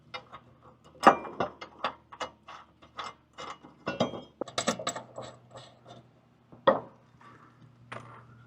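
A 24 mm socket wrench ratchets on a Cub Cadet Ultima ZT1 zero turn mower, giving bursts of close, crisp metallic clicks in uneven runs with short pauses, no voices.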